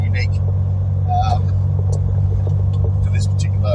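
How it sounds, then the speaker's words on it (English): A Holden Torana LC GTR XU-1 six-cylinder, a rare barn find sat for 36 years, climbs through the Adelaide hills with a steady, close engine rumble and road noise, with faint chirps above. "I'm driving up through the hills of Adelaide at the moment, but you can get a bit of a feel for how the car handles"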